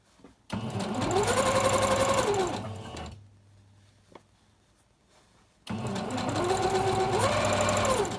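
A sewing machine stitches Halloween scrunchies in two loud, close runs, each whirring up and slowing, separated by a quiet pause with a small click.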